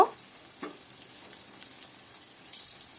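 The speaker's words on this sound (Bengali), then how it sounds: "এবার এর মধ্যে আমি দিয়ে দিলাম ছোট সাইজের চিংড়ি মাছ চিংড়ি মাছগুলোকেও একটু ভেজে নিব" Small shrimp frying in a pan with onion and garlic make a low, steady sizzle, with a few faint clicks of stirring scattered over the crackle.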